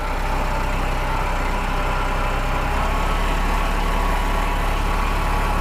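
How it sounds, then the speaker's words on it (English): Tractor engine running steadily at a constant low rumble, close and loud with no talking. "I'm going to go take the tractor, go back in my supply of IBC totes"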